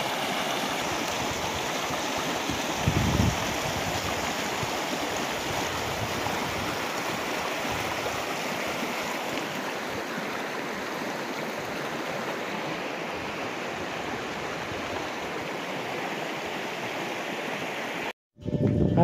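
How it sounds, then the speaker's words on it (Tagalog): Continuous rushing of a river in Davao Oriental, steady and fairly close, with a brief burst near the end. "tubig na umaagos sa ilog na ito"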